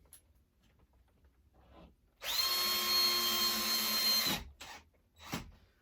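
A power drill drives a screw into a display cabinet panel in one steady whirring burst of about two seconds, close and fairly loud, followed by a few faint clicks and knocks in an otherwise quiet room.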